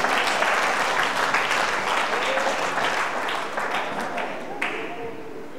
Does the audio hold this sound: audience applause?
yes